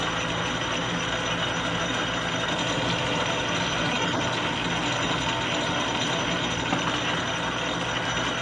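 A machine cuts a new feed nut for a Bridgeport milling vise, a steady, loud mechanical whir with a faint ratcheting texture that runs unbroken throughout, with no voices.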